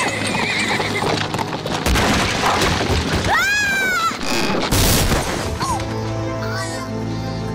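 A horse pulling a carriage neighs loudly in a long, wavering whinny over constant clip-clop of hooves and rattling wheels, with crashing thumps mixed in and a shorter neigh near the end.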